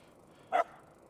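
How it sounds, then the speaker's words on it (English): A dog gives a single short, sharp bark during an eBike ride, loud against quiet surroundings. "The dog always has to give me a couple of barks and let me know that everything's fine."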